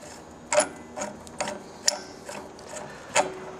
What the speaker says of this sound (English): take your fill connection here, thread on the fill line